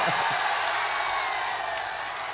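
Audience applause at a Hindi poetry recital, a dense continuous wash of clapping with light crowd noise that fades slightly toward the end, steady and moderately distant.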